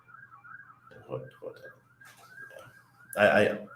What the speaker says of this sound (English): Hear sirens right now.